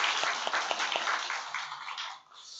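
A church congregation at a Sunday evening service gives a round of applause, soft rapid clapping from a crowd heard at a distance, fading away toward the end.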